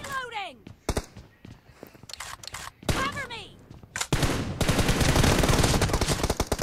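Gunfire in the PUBG Mobile video game: scattered single sharp shots early, then a dense, loud run of rapid automatic fire in the second half, with voices talking over it.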